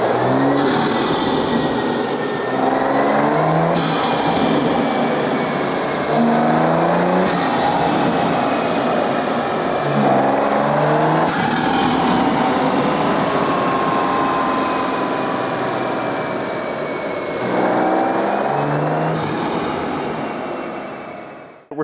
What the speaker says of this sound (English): Let's go ahead and have Payam run the car with the fans off and get some sweet intake sounds